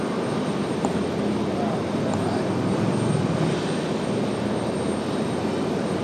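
An Alaska Airlines airliner from Seattle at Raleigh-Durham airport produces a loud, steady broadband engine roar that holds evenly throughout, with faint radio chatter beneath.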